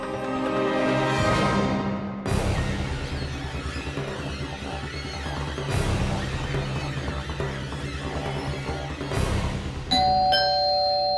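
A doorbell rings indoors several times, each chime ringing out bright and loud against a steady layer of background noise, and a final tonal ring comes near the end.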